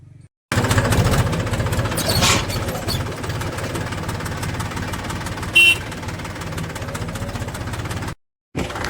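A tractor brought along to haul soybean husk in a village runs loud and close, its engine chugging with a rough, knocking rhythm; the sound cuts out briefly near the start and again near the end.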